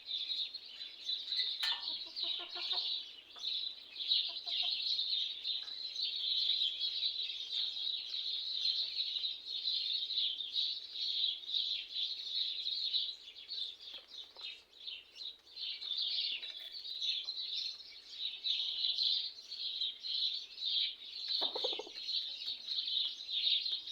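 Small birds chirp continuously from a large garden tree beside a chicken yard, a steady bright twittering at moderate distance, with a few lower clucking sounds now and then.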